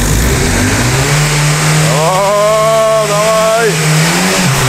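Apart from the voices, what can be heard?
car engine revving, then knocking, during engine wash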